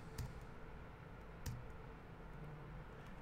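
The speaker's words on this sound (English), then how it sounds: "Now let's hit the backslash key on our keyboard." Computer keyboard key presses, the backslash key being hit during photo editing: two distinct quiet clicks about a second apart, close and isolated in a faint room hiss.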